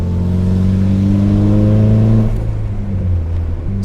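Nissan 240SX engine revving close up, a strong throaty hum climbing steadily in pitch for about two seconds, then dropping back to a rough idle with a small blip near the end; no talking.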